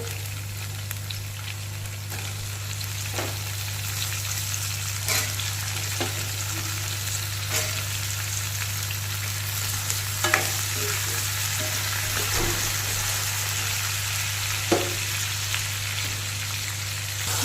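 Cherry tomatoes fry in a pan for a fish fry dish with a steady, loud sizzle, sprinkled with small pops and a spoon's occasional clinks, and no talking.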